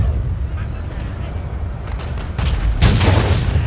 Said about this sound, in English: I've got my howitzer fired down on for a wee while as well.